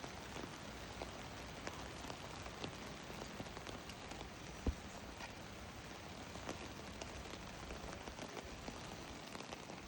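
Light drizzling rain falling steadily on a roadside in the countryside along the Zari Jamni road, a soft continuous patter with a single sharper drop standing out midway.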